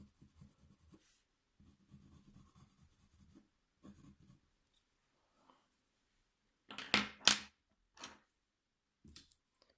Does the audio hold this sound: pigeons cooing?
no